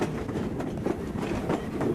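A Strasburg Rail Road passenger train rumbles along under riders, a low, steady rolling noise with faint rhythmic wheel beats, fairly quiet and without talk.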